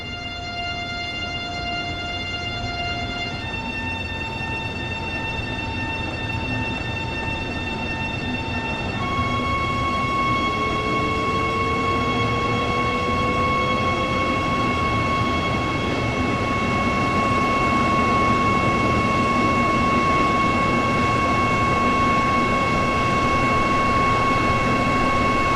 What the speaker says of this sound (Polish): Możemy sobie posłuchać, jak lokomotywa brzmi.